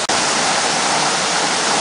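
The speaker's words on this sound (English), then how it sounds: "Coming back at you from the waterfall." A waterfall in the Angeles National Forest pours in a loud, steady, close-up roar of rushing water that fills the whole stretch without a break.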